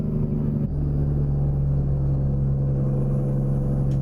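Muffler-less truck engine in American Truck Simulator, a loud steady low drone and rumble at constant idle or cruise, close and alone with no talk.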